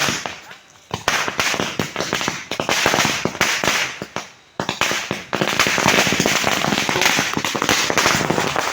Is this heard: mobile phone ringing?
no